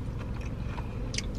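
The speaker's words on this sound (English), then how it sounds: "Hear that crunch?" Someone chewing crunchy Tongan food inside a car, with faint crisp bites and scraping mouth sounds close to the mic, no talk during the chewing.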